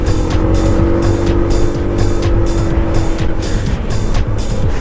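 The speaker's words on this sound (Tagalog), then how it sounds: "Habang tinothrottle tong motor na to, talaga naman bigay na bigay." Honda ADV160 scooter engine under throttle while being ridden, with a loud, continuous engine drone and road rush heard close up throughout.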